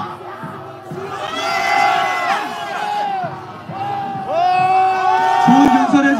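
A crowd of Korea University students at a campus rally opposing President Yoon Suk Yeol's impeachment shouts protest slogans in unison, loud repeated bursts of group chanting with brief pauses between lines.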